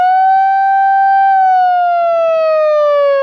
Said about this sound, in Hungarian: A figyelmeztető sziréna hangja után már csak a visszaszámlálás maradt a gyújtásig.